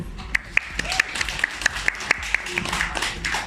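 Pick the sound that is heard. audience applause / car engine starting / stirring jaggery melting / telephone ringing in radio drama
audience applause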